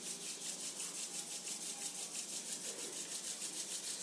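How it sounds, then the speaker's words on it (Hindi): Two palms rubbed briskly together, a steady, rapid back-and-forth swishing that carries on without pause for the whole stretch, fairly close and alone with no talking. "दोनों हाथों को आपस में रब करें।"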